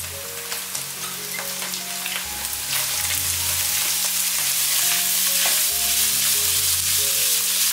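Chopped shiitake mushrooms and filling ingredients for Hakka glutinous rice cakes stir-fried in a wok, a loud continuous sizzle with rhythmic scraping and tossing of the spatula, close up and without speech.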